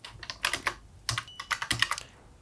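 Typing on a computer keyboard, in irregular bursts of close, crisp key clicks with short pauses between, heard alone without talk.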